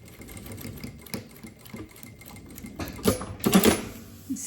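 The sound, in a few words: sewing machine stitching bag lining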